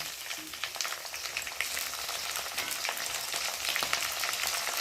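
Fried potatoes sizzle in a pan with a paste of ginger, garlic, cumin and onion, plus chopped tomato. The hiss is soft and steady, with light crackles that grow slightly denser toward the end and no speech.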